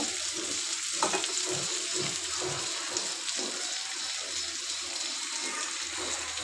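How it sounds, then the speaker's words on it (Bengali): Sweet pumpkin fries in a pan with a steady sizzling hiss, broken by soft, irregular stirring and bubbling sounds close by. "একটু মিষ্টি কুমড়োটা দিয়ে দিচ্ছি, একটু ঢেকে দিব"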